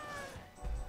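A cat unit in the tower-defense game Legion TD 2 gives a short meow, fairly loud amid game sounds and music.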